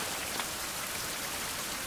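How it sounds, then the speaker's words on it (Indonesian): Steady rain falls in a survival video game, a dense, even hiss of drops spread across the whole stretch with no breaks and no voices. "Oh. Hujan bagus."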